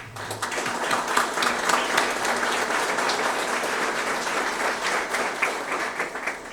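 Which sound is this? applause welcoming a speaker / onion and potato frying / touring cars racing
applause welcoming a speaker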